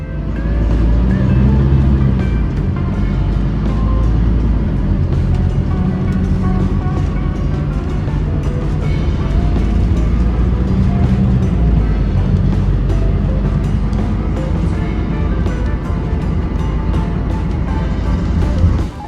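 Loud, continuous engine and road rumble of a Sinar Jaya sleeper bus heading along the Jakarta–Tangerang toll road, steady throughout with no speech over it.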